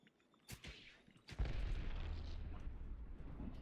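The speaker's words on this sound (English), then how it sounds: "Whoa, grenade!" Grenade blast in Apex Legends: a sharp crack, then a heavy boom that rolls into a sustained low rumble for several seconds, moderately loud.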